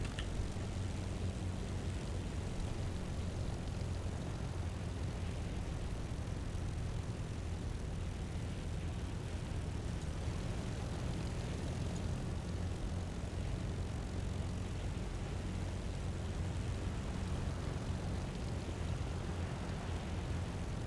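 A propeller-driven aircraft drones steadily on approach for a flapless landing in War Thunder, a constant rumbling engine tone with no pauses and no talk.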